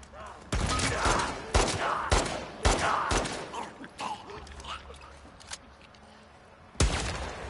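Gunfire in the video game The Last of Us Part II: a series of loud, sharp shots crack irregularly close by, with quieter rattles and creaks between them.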